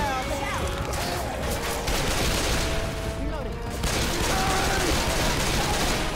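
Semi-automatic sniper rifle fire in the zombie shooter game Left 4 Dead on the Swamp Fever campaign, rapid repeated loud shots over dense game noise, with players talking underneath.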